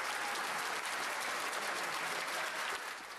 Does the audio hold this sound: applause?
yes